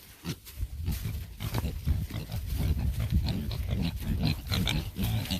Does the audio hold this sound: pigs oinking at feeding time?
yes